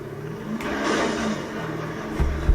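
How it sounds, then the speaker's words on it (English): The engine of a Nissan GT-R in a video game revs and whirs at moderate volume, rising and holding before a couple of brief low thumps near the end, with no talking. "Brand new GTR, just drove it off the lot."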